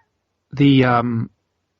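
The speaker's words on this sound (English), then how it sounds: "my cat is meowing here. She wants attention." A single drawn-out cat meow, close and fairly loud, rising then falling over about a second, with silence before and after.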